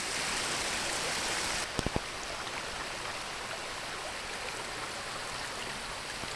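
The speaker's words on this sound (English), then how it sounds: "Water goes down over that rock face there." A mountain stream above the main cascade at Crabtree Falls, Virginia, rushes steadily over a rock face in a constant, close hiss, with a couple of quick knocks partway through.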